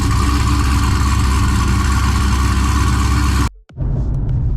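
A Chrysler 300 fitted with a Hellephant engine idles while warming up, a loud, steady, deep rumble with a rough low throb that cuts out abruptly near the end before a quieter rumble returns.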